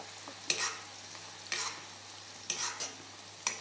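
Chillies and onions frying in plenty of oil for a tadka, with sharp sizzling bursts roughly once a second as the mixture is stirred, close and clear with no talking.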